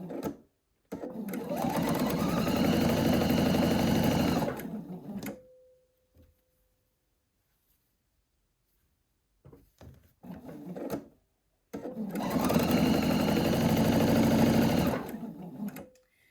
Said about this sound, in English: you're just going to sew all of those units together as such